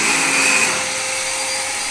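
A vacuum cleaner running with strong suction, a loud steady motor whine with a high whistling tone that eases slightly after the first moment, then holds constant, close up and alone.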